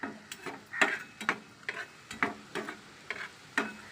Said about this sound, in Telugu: లైట్గా గోల్డెన్ కలర్ వచ్చేదాకా వేపుకోవాలి.